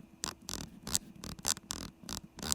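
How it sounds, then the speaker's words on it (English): Sharp, crisp clicks repeat in a quick, fairly even series as the volume knob on a Kiboom Moonshadow V2 keyboard is turned, close up and distinct, with no voices. "when you twist it, you get this very satisfying tactile feedback for every increment"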